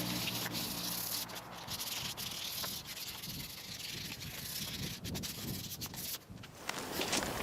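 A Scotch-Brite pad scuffs the edges of a panel before priming, making a continuous close dry scrubbing rasp with quick back-and-forth strokes and no pauses.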